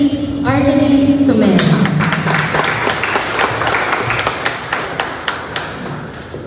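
Audience applause at a Turkish embassy event in the Philippines honoring the ambassador of Turkey: a few loud claps and a voice at the start, then a steady broad wash of clapping from a gathered crowd that thins toward the end.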